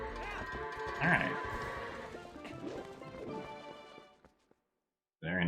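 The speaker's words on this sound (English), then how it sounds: "Very nice goats." Goats bleating in the video game The Legend of Zelda: Twilight Princess HD, with wavering, nasal cries over crashing game sounds, then a short silence before another bleat starts abruptly.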